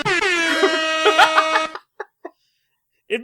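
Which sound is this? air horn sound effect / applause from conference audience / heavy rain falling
air horn sound effect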